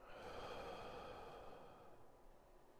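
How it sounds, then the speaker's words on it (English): A person draws a slow, deep breath in through the nose during a relaxation exercise, a single soft, airy inhale that fades out. "Breathing in through the nose."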